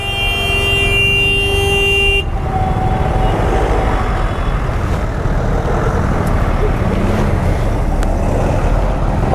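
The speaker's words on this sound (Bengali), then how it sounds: "হু করে হর্ন বাজা রয়েছে" In a heavy lorry traffic jam on the road between Kaliachak and Sujapur, a loud vehicle horn blares for about two seconds, then gives way to a constant roar of engines and road noise.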